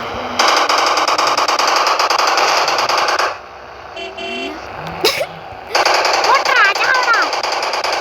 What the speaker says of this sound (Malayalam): പൊട്ടിക്കറാ വെടി.